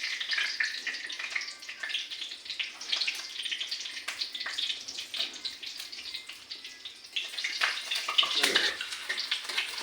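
A bay leaf goes into hot oil in a pan for a spicy chicken curry, giving a steady bright sizzle with crackling spikes that swells louder near the end.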